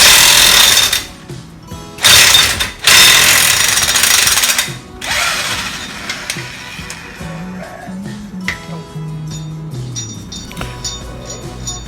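Wheel studs are hammered into the right rear hub of a Jeep WJ. A few loud, ringing metallic bursts come first, then quieter clanks and shop noise follow.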